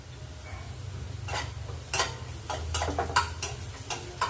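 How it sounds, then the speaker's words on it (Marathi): Chopped onion frying in a pan over medium gas for a homemade sandwich, with a low steady hum under faint sizzling and a series of sharp scraping stirs that grow busier toward the end. "कांदा आपण दोन ते तीन मिनटं होऊ देऊ मध्यम गॅसवर"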